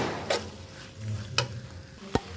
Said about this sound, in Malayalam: എല്ലാം കൂടി നന്നായിട്ട് ഇളക്കി യോജിപ്പിക്കാം.